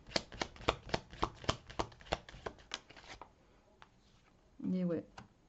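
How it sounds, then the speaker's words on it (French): Tarot cards are riffled and snapped in a quick rhythmic run of crisp flicks up close, followed by quieter card handling and a short murmured voice. "je vais tirer toutes les cartes et je vais essayer d'interpréter"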